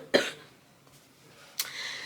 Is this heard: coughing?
yes